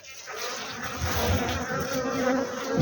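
Honeybees swarming around an opened beehive in spring, a dense, continuous close-up buzz of many insects that swells slightly louder toward the end, with no voices.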